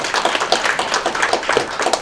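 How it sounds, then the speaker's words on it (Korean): A crowd claps in a brisk, steady burst of applause at a foundation's launch ceremony, honouring the donor of just over 2,000 pyeong of land for a training centre. The clapping is dense, even and close, with no talking over it. "여러분들 박수."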